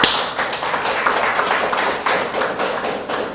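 Congregation clapping together during a Sunday church worship service, a dense sustained round of applause with sharp hand claps throughout and no voices over it.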